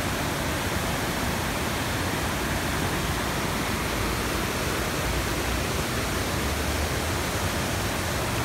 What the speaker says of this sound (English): Check it out, the waterfall.